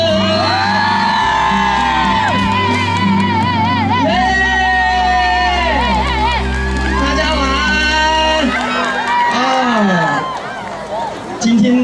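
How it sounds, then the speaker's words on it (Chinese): A concert crowd in Tainan screams and cheers loudly at an outdoor city council new-year event, with high whoops and sustained shouting layered over steady music for the full stretch. "若是的话，来一点尖叫声。"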